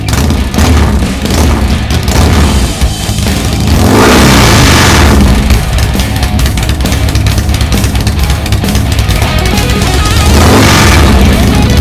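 A custom motorcycle fitted with a car ignition switch starts up and revs hard, its engine roaring loud and close with repeated surges and booming throttle blips.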